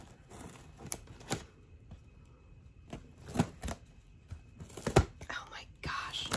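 Packing tape is ripped off a gift box during a Secret Santa unboxing: several short, sharp tearing bursts separated by crinkly rustling, close and fairly loud, with a faint voice now and then.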